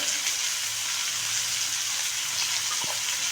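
Ground green chili and garlic paste frying with tomato and onion in a pan for a spicy village-style ridge gourd thecha, a steady loud hiss and sizzle with a faint clink near the end, no voices.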